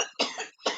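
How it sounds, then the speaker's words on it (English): Two sharp, dry coughs from one person, close and fairly loud, separated by a brief pause. "I'm still coughing,"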